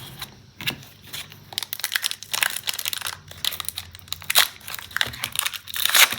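Foil Pokémon card booster pack from a Prismatic Evolutions Elite Trainer Box being torn open and handled, with close, loud, irregular crinkling and crackling bursts throughout.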